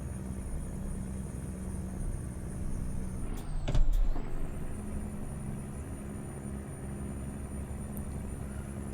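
A heavy truck in American Truck Simulator rumbles steadily with low engine drone, a brief louder shift-like transient and air-brake hiss around the middle, then settles back to a constant hum.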